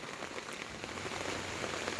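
Steady rain pattering on a surface, a dense continuous hiss of drops without any voices.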